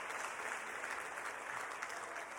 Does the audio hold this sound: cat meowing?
no